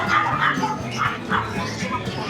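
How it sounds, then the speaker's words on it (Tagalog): A big dog at the Grotto pet market barks and whimpers in short bursts, fairly close, over busy market background noise. "Laki ng aso"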